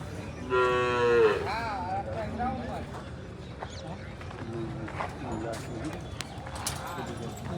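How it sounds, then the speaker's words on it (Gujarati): Gir cows tethered in rows at a cattle show moo loudly and nearby, one long low call followed by shorter lowing, over a busy crowd murmur and people talking. "એન્ટર થતાની સાથે જ અહીંયા ગીરનો વિભાગ છે. જબરદસ્ત ગાયો આવેલી છે અહીંયા."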